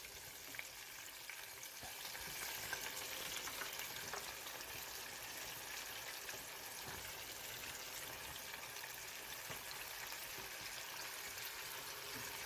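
Chicken for Nashville hot chicken deep-frying in oil, a loud continuous bubbling sizzle that holds steady from start to finish with a few faint clicks.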